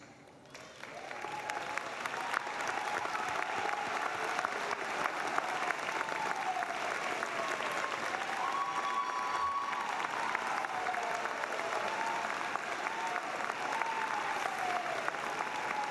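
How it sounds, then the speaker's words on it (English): A graduation ceremony crowd applauding steadily for a long stretch, the clapping swelling in after a quiet start, with faint whistles or cheers mixed in. "Please stand for a round of applause."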